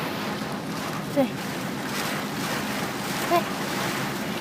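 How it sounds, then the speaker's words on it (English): Strong storm wind buffeting a moving vehicle, a steady roaring rush throughout, with a brief spoken word near the end. "It's windy outside."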